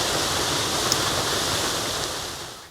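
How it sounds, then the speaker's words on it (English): A waterfall pours in a steady, loud broadband rush that holds constant throughout, with no voices. "we'd better start with an establishing shot of a beautiful waterfall"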